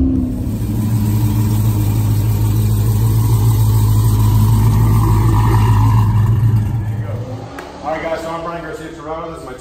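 A 2009 Dodge Challenger SRT8 with a 6.1-liter (370 cubic inch) Hemi V8 and a custom-grind Crower cam idles in line at a street car event, a loud steady low rumble that drops away near the end as a voice begins talking.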